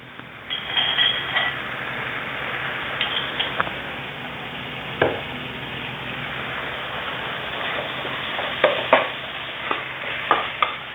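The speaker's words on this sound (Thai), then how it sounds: "เราผัดหมูสับให้สุกก่อนนะครับ" Minced pork stir-fried in a pan for a southern Thai stink-bean dish with shrimp paste: a steady close sizzle with scattered scrapes and light clinks of the utensil against the pan.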